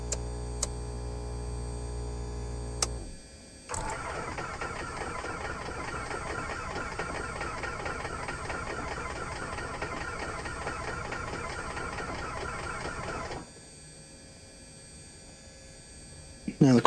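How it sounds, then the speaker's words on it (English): Aircraft right engine cranking and starting in Microsoft Flight Simulator 2024: a short whir, then a steady rattling engine drone running for about ten seconds before it drops off, with brief clicks at the start and end. "start the right engine"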